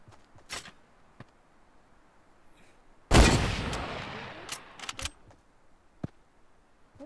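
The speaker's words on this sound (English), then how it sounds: "Whoa, they're shooting at us." Fortnite video game gunfire: a sudden loud blast with a decaying rumble, surrounded by scattered sharp single shots and clicks, some near and some distant, against a quiet background.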